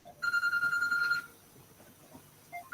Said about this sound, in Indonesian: telepon di sebelah berbunyi